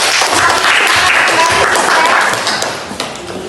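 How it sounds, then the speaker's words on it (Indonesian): Schoolchildren in a classroom applaud a student's group presentation, a loud, busy wash of many hands clapping throughout, thinning a little near the end, with some talking underneath. "Tepuk tangan dulu untuk"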